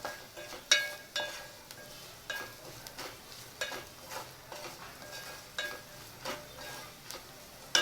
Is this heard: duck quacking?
no